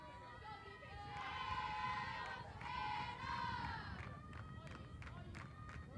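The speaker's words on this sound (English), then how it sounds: "Anna getting some cheering from her teammates" Softball teammates cheer and shout in two swelling bursts at a 2025 Horizon Championship game, Purdue Fort Wayne against Robert Morris, with crowd noise fading to a low murmur afterward, heard at a modest distance.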